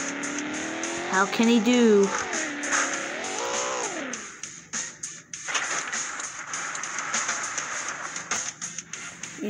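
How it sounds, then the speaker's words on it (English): Camaro racing in the MadOut2 video game: a loud engine tone rises and falls in pitch through the opening seconds, then gives way to lower rumbling and scattered noises, with a voice talking over it. "Next up, got a nice looking Camaro up next"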